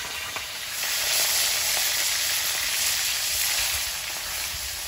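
Fish fries in hot oil in a wok with a dense, loud, steady sizzle and crackle that swells slightly after the first second and stays close and continuous.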